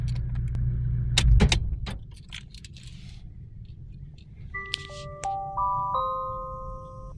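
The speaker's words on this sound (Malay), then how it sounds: "Okey, sekarang saya tutup engine" A car engine at a parked vehicle shuts off with a brief loud clunk and rattle, the low idle rumble fading afterward, followed by a few clicks and soft electronic chime tones.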